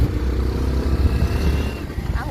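A new motorbike is ridden along a road, its low, steady engine rumble and wind noise running continuously beneath a person talking.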